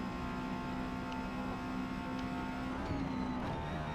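A Honda S2000 races around Daytona Speedway in Forza Motorsport, the engine droning at a steady high pitch with a slight shift in tone near the end, loud and continuous with no talk.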